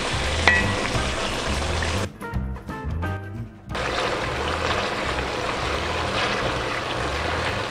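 Tomatoes for a fish stew cooking in a pot, giving a steady, loud sizzle and bubbling throughout, with a short stretch of clinking and stirring noise partway through.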